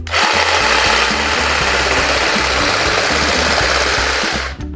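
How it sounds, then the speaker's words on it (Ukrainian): Stihl HSA 26 cordless shears cutting paper, a loud continuous buzzing motor with rapid chattering blade strokes for several seconds before stopping abruptly. "Давайте на прикладі бумаги спробуємо щось з ним зробити"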